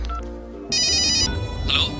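A telephone ringtone in a Telugu film scene sounds in short electronic bursts, loud and close, heard over a low background hum.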